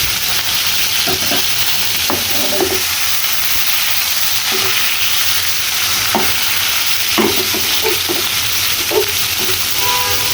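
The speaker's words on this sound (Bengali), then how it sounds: "সবগুলো মাছ আমি কড়াইতে একবারে দিয়ে দিয়েছি" Whole hilsa fish frying together in oil in a wok, a steady loud sizzle throughout with occasional spatters and pops, close up and without talk.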